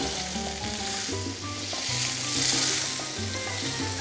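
Butter and sofrito sizzle loudly in a pan as a steady close hiss that swells in the middle. Faint tonal background music plays beneath it, and no one speaks.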